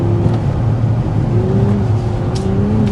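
A Hyundai IONIQ 6 N, a 2026 electric performance car, drifts sideways at a high drift angle setting, giving a steady loud whirring drone with a rising synthetic engine tone and faint tyre noise.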